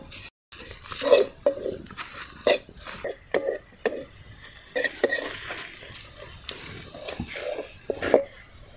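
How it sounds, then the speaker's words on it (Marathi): A spoon stirs and scrapes through an onion and spice mixture frying in a pan for dried-shrimp (sukat) chutney, giving repeated close clinks and scrapes in an uneven rhythm over a soft background. "तर आता हे थोडा वेळ तळून घ्यायचं आहे आपल्याला।"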